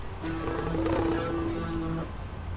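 A deep, drawn-out dinosaur roar from the game Mesozoica, with a growling, tonal quality, loud and close, lasting a couple of seconds.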